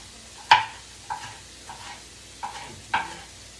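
Diced peppers are stirred into onions frying in a pan, with five scraping stir strokes over a soft, steady sizzle, close and moderately loud.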